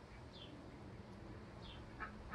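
A European starling perched in a tree gives a few faint, high chirps spread across a couple of seconds, heard over a steady background hiss.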